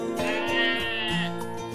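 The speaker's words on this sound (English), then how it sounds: "goats" A goat lets out one sustained, wavering bleat, close and fairly loud, with nothing else sounding over it.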